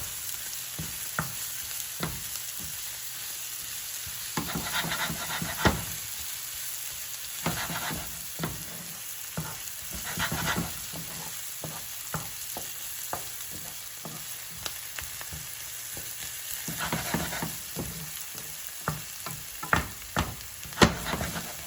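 Onions fry in a pan for Spanish rice and chicken: a steady sizzle runs throughout, with sharp clicks and scrapes from stirring at irregular intervals and no talking.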